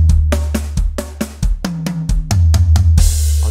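A drum fill of rapid hits mixing toms and kick drum, low booming notes alternating with sharper strokes, ending on a crash cymbal.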